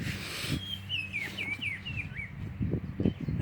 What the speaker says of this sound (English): There's a bird right above me.